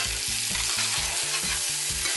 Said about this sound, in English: all you have to do is just give it a little stir once in a while